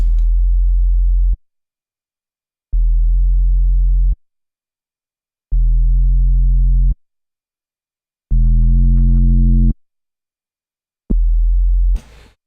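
Synth notes shaped by a smooth LFOtool modulation curve inside Bitwig, five sustained low tones about 1.3 seconds each with regular gaps, loud and alone, the fourth slightly brighter and buzzier.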